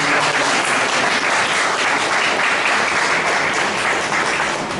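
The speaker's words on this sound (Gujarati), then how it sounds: "એ લોકોને માટે આપણે તાળીઓના ગળગળાટ" A loud, dense wave of audience applause fills an inauguration ceremony for a solo acting competition in Surat, sustained and even from start to finish with no talking.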